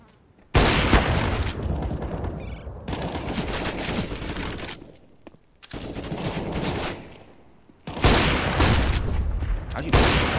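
Rapid bursts of video game gunfire crackle loudly in several long volleys with brief gaps between them, while faint voices talk underneath.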